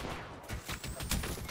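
Rapid bursts of gunfire in the battle royale shooter Apex Legends, a dense rattle of shots with a few sharper cracks, steady and mid-distance, with no talk over it.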